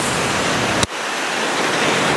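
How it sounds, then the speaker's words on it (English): Water pours steadily down at Asa Dam, a loud, continuous broadband rush that drops out sharply for an instant before resuming just as strong. "The flow, the sound of water coming down."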